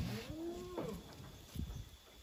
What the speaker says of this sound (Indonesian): Kambing ini teman-teman, bagus banget.